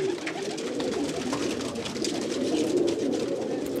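Pigeons kept by a breeder in Iran coo continuously in a low, murmuring chorus, several birds close together with a steady rumbling drone throughout.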